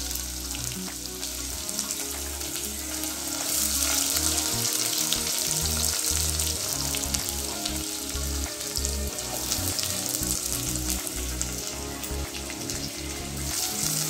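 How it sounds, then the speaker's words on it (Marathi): Chopped onions fry in hot oil with cumin seeds for a Maharashtrian varan phal, giving a continuous close sizzle with dense crackling that holds steady and slightly swells. "त्याच्यानंतर आता टाकतोय कांदा"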